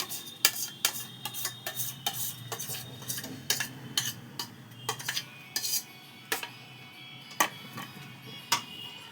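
Ripe mango paste is stirred into thickened milk in a pan, heard as a spoon knocking and scraping against the metal pan in an irregular series of sharp, close clinks.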